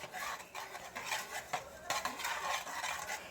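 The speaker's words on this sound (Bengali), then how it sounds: "এবার একটা পাত্রে সেই ঢ্যাপের খইগুলো নিয়ে নিয়েছি, এর মধ্যে গুড়টা দিয়ে আমি ভালো করে মিশিয়ে নেব।" Jaggery being stirred by hand into a bowl of puffed water-lily seeds for a sweet moa, a close, continuous dry rustling and scraping with soft clinks of a spoon against the bowl.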